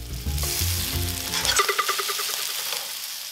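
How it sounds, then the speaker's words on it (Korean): Oysters drop into hot oil flavoured with green onion in a pan, with a clunk and scrape at first, then a loud, crackling sizzle close by. "파기름 향이 나면 굴을 넣고 노릇노릇하게 볶아주면 됩니다."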